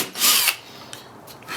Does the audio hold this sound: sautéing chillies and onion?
no